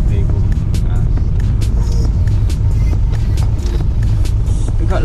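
A van engine drones steadily as it slows to pull over on a rainy mountain road in the Pyrenees, France, a loud continuous low rumble with road noise and light rain-like ticks.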